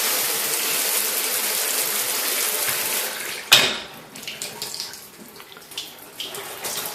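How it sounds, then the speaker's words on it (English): A bathroom shower runs with a steady broadband hiss of water spray for about three and a half seconds, then cuts off abruptly, leaving faint drips and small clinks. "Shower works."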